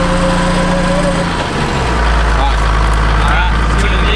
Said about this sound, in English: This is the entire winch pulling up the hill.